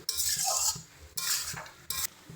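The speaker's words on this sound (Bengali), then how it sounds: "এবার টমেটোটাকে ভালো করে সব কিছুর সঙ্গে মিশিয়ে নিয়ে" A spoon scrapes and stirs tomato chutney with spices in a pan in three distinct, close strokes, each a gritty swish ending in a light metallic knock against the pan.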